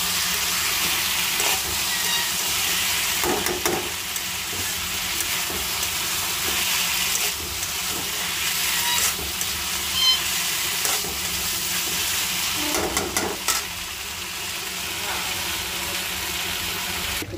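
Sweet pumpkin (mishti kumra bhaji) fries in a pan with a steady hissing sizzle, broken by a few brief scraping stirs near the start and around the middle.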